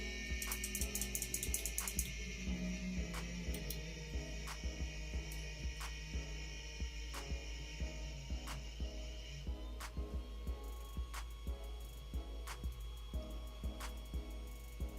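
An Ender 3 V2 3D printer homes its axes with a faint, steady stepper-motor whine and hum, punctuated by regular soft ticks, with a higher tonal buzz that drops away partway through.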